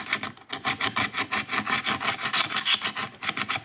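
A pick scrapes old glue out of the weatherstrip groove on a C4 Corvette, producing a harsh, rapid rasping rhythm of close, repeated strokes that continues steadily with no voices.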